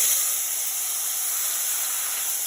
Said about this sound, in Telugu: మామిడికాయ ముక్కలు ఉసిరికాయలు ఇదే ఆయిల్లో